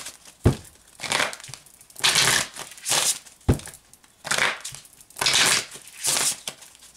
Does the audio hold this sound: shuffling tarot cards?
yes